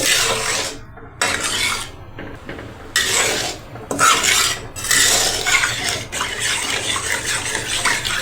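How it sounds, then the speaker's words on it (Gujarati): A spoon stirs a packet of ice cream mix into cold milk in a kitchen pot, giving repeated scraping and rubbing strokes with brief pauses, close and fairly loud. "આપણે 2 થી 3 મિનિટ માટે હલાવીશું એટલે સારી રીતે મિક્સ થઈ જાય ઠંડા દૂધમાં"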